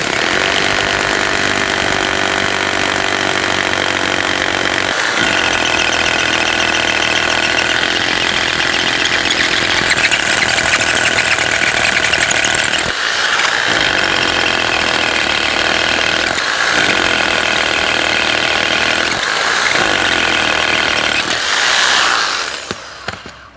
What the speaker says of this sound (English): I'm going to go ahead and drill my first hole.